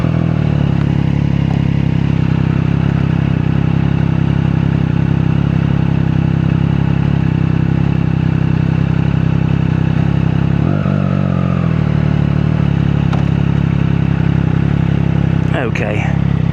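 A Triumph Daytona 660 motorcycle engine runs at a loud, steady idle close by, with a brief clatter midway and another near the end.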